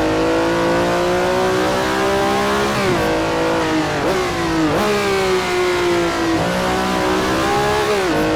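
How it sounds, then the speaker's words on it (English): A race car engine revs hard in the Assetto Corsa racing game, a Ferrari 330 P4 or Ford GT40 at Laguna Seca, loud and continuous with rising pitch sweeps and sharp drops at each gear change. "Really like the engine sound as well."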